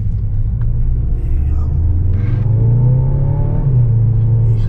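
A car in sport mode at a drag strip in Caborca gives a loud, close engine drone that climbs steadily in pitch as it accelerates, then briefly drops and holds.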